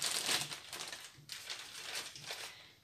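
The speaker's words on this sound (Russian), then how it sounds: "Теперь я беру вот такие вот пакетики." Thin plastic bags crinkle and rustle as they are handled during violet leaf propagation, with several close, bursty crackles separated by brief pauses and no talking.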